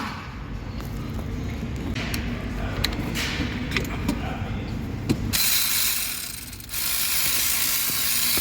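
Bolts on a Hyundai Palisade with an oil leak are worked loose with ratcheting clicks and metallic tool clatter, close by, before a louder, steadier whir sets in near the end.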